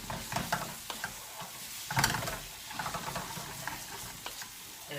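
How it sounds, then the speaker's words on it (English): Mustard is worked into a carbonara sauce in a pan with soft, close scraping stirs and occasional light knocks, over a gentle sizzle and with no talking. "We'll get that mustard mixed in there as well"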